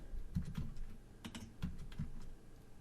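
Typing on a computer keyboard during 3ds Max software work, with several quick bursts of keystrokes close up, a short pause, then more taps, all without any talking.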